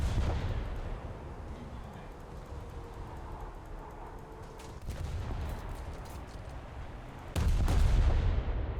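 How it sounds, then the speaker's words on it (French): Naval shells fire from a French warship in the game War Thunder, with a booming low rumble of gunfire, a sharp blast near five seconds and another louder salvo near the end. "Je tire un peu en avant pour que les obus aillent sur l'avant du navire."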